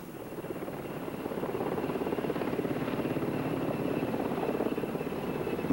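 An Alaska National Guard helicopter airlifting the Dante volcano-exploring robot to the crater rim of Mount Spurr produces a steady rhythmic rotor thump and engine drone, moderately distant and rising slightly in level.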